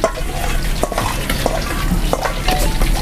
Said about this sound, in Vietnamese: này mình vừa lăn bột, mình vừa chiên,